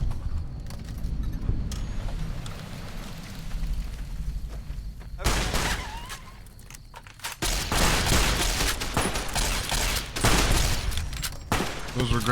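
Rapid bursts of gunfire in Fallout New Vegas, dense and loud, with a quieter stretch early on before heavy volleys dominate the latter half.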